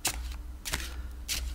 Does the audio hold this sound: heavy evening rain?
no